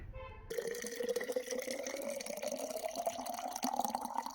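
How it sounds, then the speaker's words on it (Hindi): Water is collected from a mountain source, a continuous splashing, gurgling flow into a container with a rising fill tone, close and steady throughout after a brief quiet start. "यहाँ मैं आया हूँ पानी लेने"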